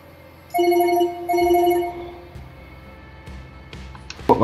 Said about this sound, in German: Gucken, ob der Ahmed ans Telefon geht.